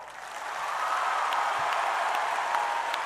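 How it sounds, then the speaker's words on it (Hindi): A large audience at KISS University breaks into sustained, even applause for a group of children, a dense wash of clapping that swells and holds for a few seconds with no talking over it. "Let's give a biggest round and applause to all these children here"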